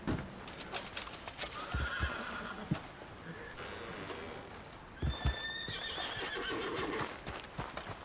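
An American Paint horse in Red Dead Redemption 2 whinnies and snorts up close while hooves clip-clop in an uneven rhythm, fairly loud, with no talking over it.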